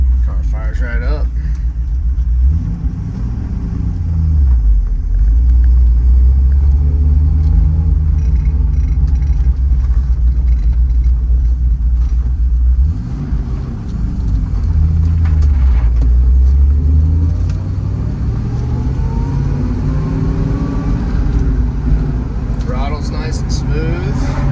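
A 1968 Shelby GT350 with a factory 4-speed idling and revving from inside the cabin, a deep rumbling engine that swells and eases in waves, with someone talking over it.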